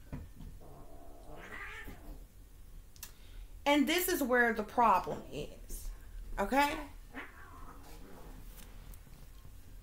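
Kittens meow and yowl indoors in a few drawn-out, wavering cries of varying loudness. Someone talks over them and between them, and there are light clicks.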